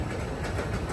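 Roller coaster train at a rodeo event rolling along the track toward the crest of a hill, a steady close rumble and clatter of wheels on rails with no voices.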